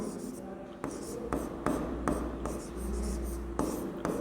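Notes handwritten with a pen on paper during a physics class, a run of close scratchy strokes with short pauses between words, faint and steady with no talking.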